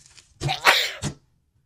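Single sharp sneeze, a quick breathy intake followed by a loud burst and a short trailing puff, then silence.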